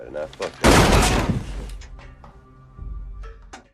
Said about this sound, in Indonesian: Mark yang sudah curiga berhasil menembaknya lebih dulu